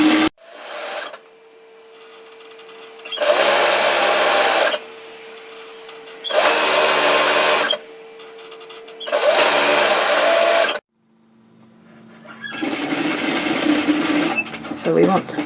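A domestic sewing machine stitches woven fabric for a kimono robe in four loud bursts of whirring, separated by short pauses, and then a final longer run.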